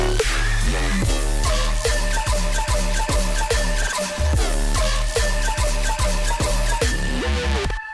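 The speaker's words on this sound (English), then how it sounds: "these are hard trap flutes that sound like this" Hard trap flute synth lead built in Serum, a bright saturated melody riding over a thumping beat with deep bass, loud and continuous throughout.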